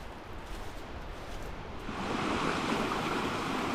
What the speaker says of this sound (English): Made it back to the river.